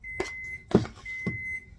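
Kitchen stove sounding its preheat signal, a thin, sustained electronic beep running through the clip with a few soft knocks nearby.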